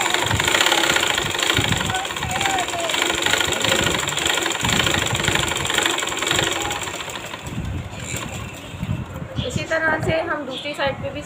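A sewing machine hums and chatters continuously while stitching belt-style salwar fabric, with someone talking over it throughout and the stitching easing toward the end.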